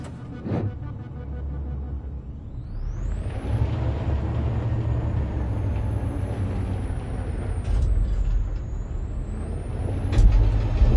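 A large truck engine in the video game Detroit: Become Human rumbles steadily while a high whine sweeps upward and holds, with a sharp hiss of air brakes early on.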